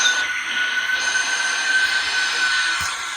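An R160 L subway train in a train simulator game rumbles steadily along with a high, thin wheel whine running through the whole stretch.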